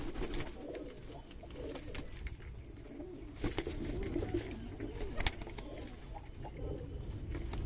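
Pigeons at a loft in Shibganj, Chapai Nawabganj, climbing onto a handler's hand, with soft cooing, rustling and occasional wing flutters close by and fairly faint.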